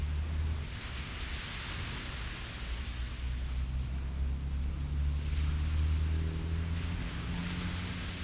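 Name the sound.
water at the beach at sunrise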